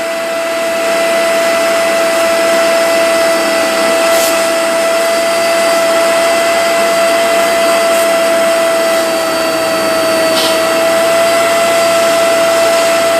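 Hoover portable spot cleaner suctioning dirt from a carpet, a loud, steady motor whine and airy suction roar that holds continuously near the microphone, with faint brushing scrapes as the nozzle passes forward and back.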